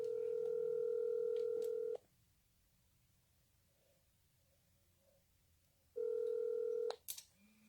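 A telephone ringback tone sounds as two steady, loud electronic tone bursts about two seconds long, separated by a quiet gap of roughly four seconds, with a brief click-like noise right after the second burst.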